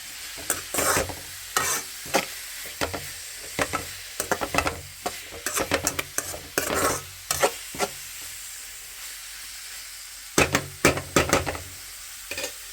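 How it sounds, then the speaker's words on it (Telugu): Carrots for carrot halwa frying in a pan and being stirred, with repeated scraping stir strokes in uneven bursts over a soft steady sizzle, close up with no talking. "కలుపుతూనే ఉండాలి."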